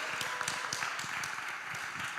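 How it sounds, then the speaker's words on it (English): An audience applauds after a speaker thanks a guest at a Scottish anti-nuclear campaign event, a dense, even patter of clapping heard at a modest distance for a couple of seconds. "Can we have a round of applause?"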